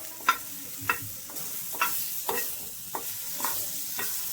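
A little butter melts in a hot pan while bread is lightly toasted for an egg omelette snack, giving a soft, quiet sizzle with a series of regular scraping stirs roughly every half second.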